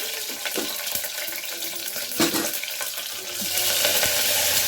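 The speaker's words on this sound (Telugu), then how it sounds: "కరివేపాకు, ఇంకోండి పచ్చిమిరపకాయలు వేయించాయి." Continuous crackling sizzle of green chillies and curry leaves frying in hot oil, with occasional clinks of stirring; the sizzle swells louder toward the end.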